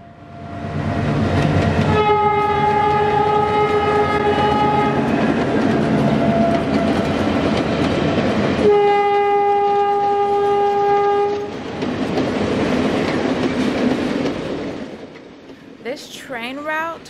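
A train sounds its horn in two long, loud blasts while crossing the 80-foot-high Nine Arch Bridge in Sri Lanka, with rumbling wheels beneath and noise continuing after the horn stops.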